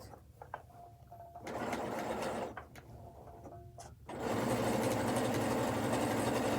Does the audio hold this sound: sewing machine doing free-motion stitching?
yes